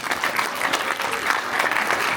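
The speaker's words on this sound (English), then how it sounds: "Applaud now." A live improv show audience bursts into a short round of clapping and cheering, dense and fairly loud throughout, with a few voices mixed into the crowd.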